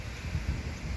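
Very strong wind gusts across the microphone, sweeping loose debris along, a steady heavy low roar with rough buffeting and no voices.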